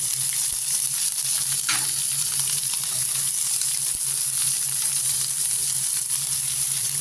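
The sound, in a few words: bay leaves and chopped green chillies sizzling in hot oil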